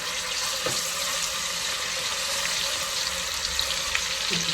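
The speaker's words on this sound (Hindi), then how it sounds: "अदरक लहसुन डाल के ज़रा सा हल्का सा इसे भून लें" Ginger and garlic fry in a pan with steady sizzling, a continuous crackly hiss with a couple of faint clinks of stirring.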